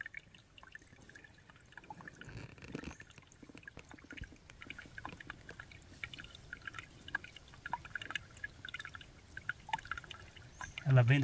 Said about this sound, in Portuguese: E vi tanta água aqui na minha frente.